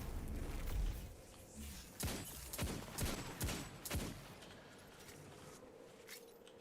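Weapon fire in the video game Destiny 2, a series of five or six sharp shots in a rough rhythm over a low rumbling background, fairly faint overall and with no voices.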